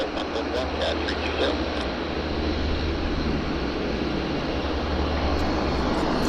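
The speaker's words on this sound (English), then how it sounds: "This, I think, was the last landing" An airplane landing at Vancouver International Airport (YVR), heard from a north side plane-spotting spot as a continuous loud, broad engine roar holding steady throughout, with no talk.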